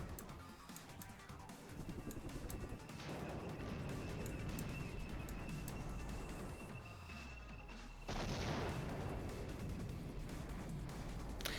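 Artillery and gunfire in the wargame Flashpoint Campaigns: Southern Storm, a faint, dense crackle of distant shots with muffled booms, including a stronger impact near the end.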